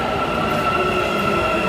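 A passenger train running on an empty lockdown-era line rumbles steadily and close by, a continuous rail roar with a high tonal whine throughout.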